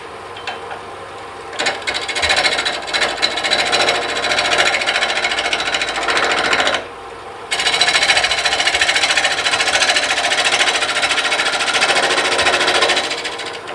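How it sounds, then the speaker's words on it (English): 5/8 detail gouge cutting a tenon on a piece of wood spinning on a lathe, making an ornament display stand: loud, rough, continuous scraping and chattering close by, dropping out briefly midway before resuming. "make a tenon on one end of it. And we'll just use this 5/8 detail gouge"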